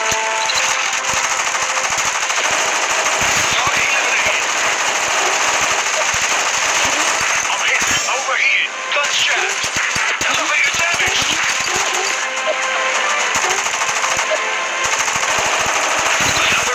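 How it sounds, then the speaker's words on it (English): Sustained machine gun fire from an aerial combat in the War Wings video game, loud and continuous for the full stretch, with dense rattling bursts and brief lulls and radio-style voices faintly layered underneath. "Taking heavy fire."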